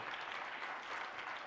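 Faint, brief applause from an audience at a 2015 national forum event with two congressmen, a soft wash of distant clapping lasting only a moment.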